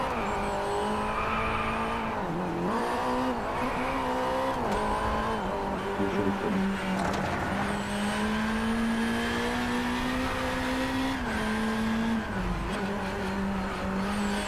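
Car engine in the Driveclub racing game revving hard and steadily throughout, its pitch climbing and dropping with each gear change, with tires squealing underneath as the car accelerates and corners.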